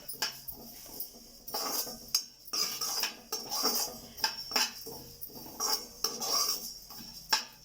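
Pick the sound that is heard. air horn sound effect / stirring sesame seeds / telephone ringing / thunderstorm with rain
stirring sesame seeds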